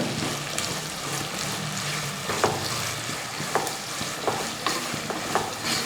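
Onions frying with salt in a pan for Nellai chicken chukka give a steady, close sizzle, broken by a few sharp scraping stirs of the spoon.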